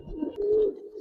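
Giribaz pigeons, a racer and coloring breed, give a single soft, low coo lasting about a second, close by and alone.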